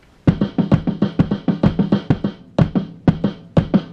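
A drum struck one-handed in quick triplet groups of short, sharp hits, steady and close, pausing briefly before resuming in spaced pairs.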